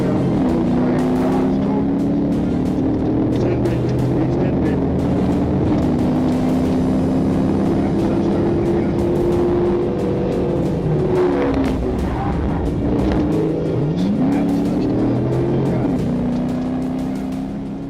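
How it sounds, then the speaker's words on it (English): A Dodge Charger roars away under hard acceleration with tires spinning while fleeing police, a loud, sustained engine howl with rising and shifting pitch and tire noise throughout. "the driver immediately accelerated away, spinning the tires as he fled and initiating a dangerous pursuit"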